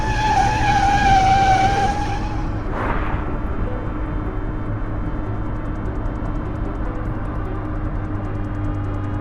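A car skids to a halt nearby, its tires squealing loudly for about two seconds before giving way to a steady idling engine rumble.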